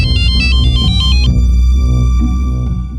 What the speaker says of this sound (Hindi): रिंकी का फोन अभी पालम में एक्टिव हुआ था और फोन अभी भी चालू है।